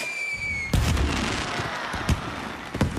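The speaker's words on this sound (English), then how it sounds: "Thomas waited in the castle station and watched the fireworks." Fireworks explode in a Thomas & Friends cartoon, a rapid series of sharp bangs and crackling bursts. A whistling launch rises first, then loud booms come at irregular intervals over continuous fizzing crackle.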